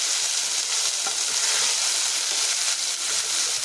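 Ginger, green chili and cumin paste with a pinch of asafoetida being stirred into hot oil for a besan shaak tempering, a steady broadband sizzle with a soft scraping of the spoon, loud and close throughout.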